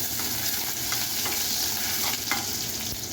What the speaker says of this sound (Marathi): आता यामध्येच आपल्याला चांगले परतून घेऊया